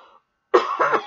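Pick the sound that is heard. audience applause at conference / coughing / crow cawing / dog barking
coughing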